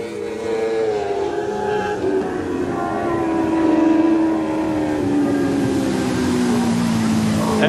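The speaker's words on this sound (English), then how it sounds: "if you listen to the motors, they don't raise the foot one little bit" Formula 500 junior speedway race cars at a Maryborough Speedway feature race, engines held flat out in a continuous droning whine that slowly falls in pitch as the pack passes, with crowd and track ambience underneath.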